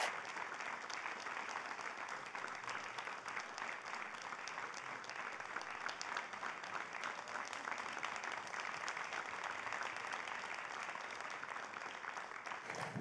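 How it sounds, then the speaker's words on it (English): Sustained, steady applause from a literary event audience welcoming two authors to the stage, a dense wash of clapping that holds evenly from start to finish at moderate distance. "Thanks for clapping."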